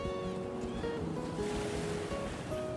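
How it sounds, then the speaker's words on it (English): Waves wash across the vast, icy open sea around a shrimp fishing boat, a steady broadband surge with wind rushing over the microphone and faint tonal hum from the vessel underneath, no voices. "Once out in the open sea, all that surrounds them is the vast, icy ocean"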